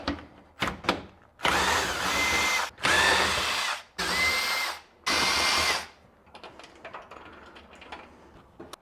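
A power tool such as an impact driver or drill spins 13 mm nuts off T-slot bolts holding a rooftop tent mount, in four loud sustained bursts of about a second each, with lighter clicks and handling between them and no talk.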